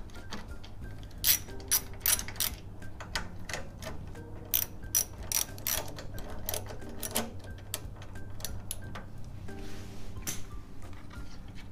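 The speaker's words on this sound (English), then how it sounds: "Then remove these two bolts using a" A 12 mm ratchet wrench removes bolts on a Yamaha V Star 1100 motorcycle during a valve adjustment. Rapid ratcheting clicks come in repeated bursts over a low background hum, close and fairly loud.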